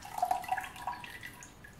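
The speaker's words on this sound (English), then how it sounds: "So I'm gonna just pour that into the container here." Leftover kombucha starter liquid is poured into a container, a faint, close trickle and splash of liquid lasting under two seconds.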